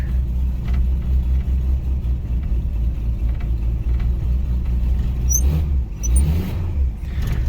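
Idling engine of a 1960 Rambler American, a low, steady rumble close by with a slight unevenness, joined by a few faint clicks and knocks near the end.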